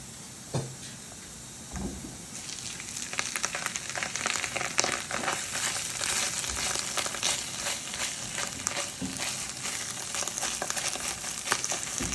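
Zasmazhka for Ukrainian borscht frying in a pan as tomato paste goes in: a quiet start gives way to a busy crackling sizzle with scraping stirs and small pops, close up and without talk.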